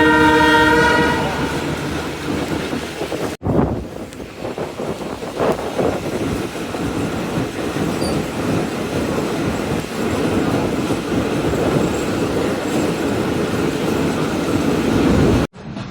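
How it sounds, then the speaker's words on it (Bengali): Ovijatri commuter train bound for Gopalganj runs through Gandaria railway station without stopping, a loud close pass with a long horn blast at the start, then steady rumbling wheels and carriage noise for the rest. "Gendaria railway station through pass করে যাচ্ছে গোপালগঞ্জ অভিমুখী অভিযাত্রী কমিউটার ট্রেন।"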